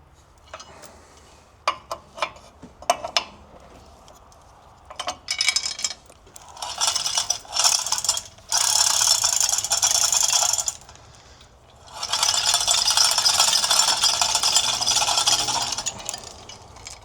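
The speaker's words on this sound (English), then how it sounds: "So we'll just get this chain block down rather than work around a forklift." A chain block is lowered in a workshop beside a Caterpillar 933 track loader, starting with scattered metallic clanks and ticks, then long loud bursts of continuous chain rattling.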